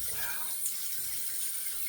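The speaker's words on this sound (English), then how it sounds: "let's first we'll wet the head here and rinse off" Water running from a tap to wet and rinse a safety razor head, a steady soft hiss of flow at close range, fairly quiet and alone.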